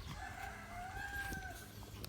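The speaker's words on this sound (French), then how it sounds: "Alors ici on a donc un coq" A Brahma rooster of the Isabelle colour crows once, a drawn-out faint call rising and falling over a low background rumble in a backyard poultry pen.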